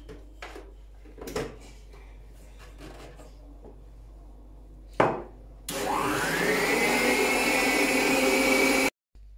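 An electric mixer whips chantilly cream in a kitchen. A few knocks and clatters come first, then the mixer starts with a loud, steady whirring drone for about three seconds before it cuts off abruptly.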